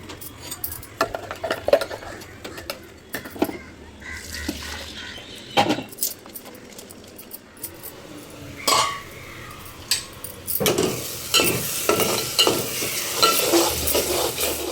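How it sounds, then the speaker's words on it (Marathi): Dry spices (turmeric, red chilli powder and a house masala blend) fry in oil for a Malvani-style crab curry, stirred with a utensil. Scraping and clinking come in uneven bursts with a steady sizzle, busier and brighter toward the end, and there is no talk. "त्याला छान परतून घ्यायचं आणि अगदी तेल सुटेपर्यंत ह्याला आपल्याला झाकून ठेवायचं."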